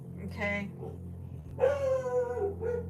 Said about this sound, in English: Hopefully they'll stop barking.